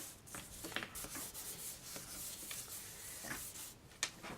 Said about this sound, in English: run my embossing buddy over my scrap cardstock